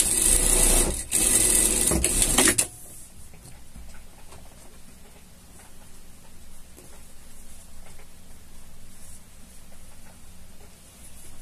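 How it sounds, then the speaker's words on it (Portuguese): Sewing machine runs a fast, loud burst of stitching for a couple of seconds while sewing a safety seam on a pet harness, then stops, leaving quiet room noise. "Passa uma costura de segurança aqui."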